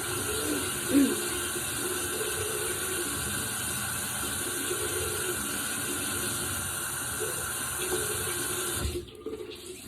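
Warm water runs steadily from a bathroom tap into a sink, a continuous close splashing hiss with a faint thump early on, cutting off abruptly near the end.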